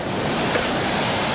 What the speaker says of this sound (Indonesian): pinggir pantai banget nih